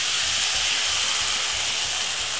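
An egg poured into a hot pan with vegetables for a Jamaican sardine and egg breakfast, giving a loud, steady sizzling hiss close up that fills the whole moment, with no talk.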